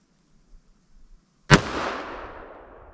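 A single .45 ACP pistol shot through a 5.3 inch KKM barrel, a sharp, loud, close crack with a lingering decaying echo after a few faint handling sounds.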